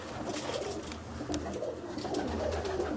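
Dilawar Khasa breed pigeons coo softly in a loft, their low murmuring calls faint and continuous under a bit of ambient noise.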